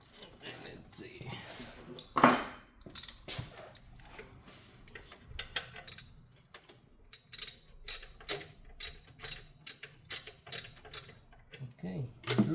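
A ratchet clicks in short repeated bursts while loosening a bolt at the radiator of a 2004 Toyota Tacoma 3.4 automatic, with irregular metallic knocks early on, then a steady rhythmic run of cranks, under occasional talk.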